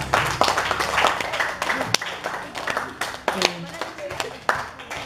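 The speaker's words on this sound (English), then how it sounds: "let's give everyone a round of applause." An audience gives a round of applause after group presentations in a discussion forum, with scattered, uneven clapping mixed with crowd chatter and voices throughout.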